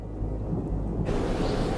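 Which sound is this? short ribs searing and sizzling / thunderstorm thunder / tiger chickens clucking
thunderstorm thunder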